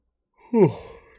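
A single human yawn, a short breathy exhale that rises and trails off with a voiced, sighing quality, close and fairly loud and heard alone.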